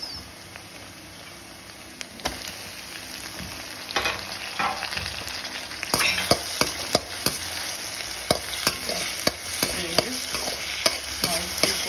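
Chopped tomatoes go into pink frying onions in a pan for a lady finger vathakuzhambu, with close, busy stirring: a continuous sizzle broken by many sharp spatula clicks and scrapes that grow denser in the second half.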